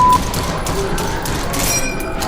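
Rapid gunfire bursts from a gun in a horror video game crackle loud and close for a couple of seconds, with a few sharp shots standing out.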